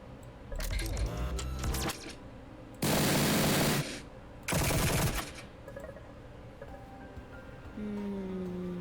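Weapon fire in the Echoes Lucid9 fangame, heard as two loud, broad bursts of about a second each, separated by a short gap, amid quieter game sounds and music tones.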